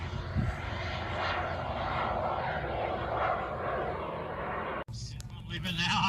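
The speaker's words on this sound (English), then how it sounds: "That plane is a cool plane" A radio-controlled model airplane drones overhead at a field show, its engine whine steady and fairly loud before cutting off abruptly near the end, with people talking nearby.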